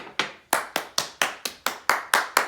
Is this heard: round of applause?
yes